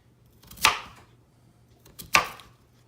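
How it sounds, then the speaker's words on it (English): Two sharp knife chops through sweet potatoes on a cutting board, spaced more than a second apart, crisp and close in a quiet kitchen. "We're just gonna cut those in, just cut them up where they're a little bit smaller"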